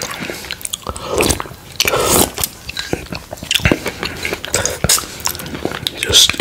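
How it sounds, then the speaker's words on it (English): Chicken potato soup eaten with cutlery, close and loud, with spoon clinks against a bowl, slurps, bites and moist chewing in an uneven rhythm. "Just eating my meal."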